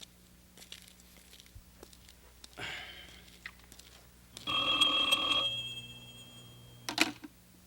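A telephone rings once in a quiet office, a short bright electronic trill standing out midway over a faint background hum, with some rustling before it and a sharp knock near the end.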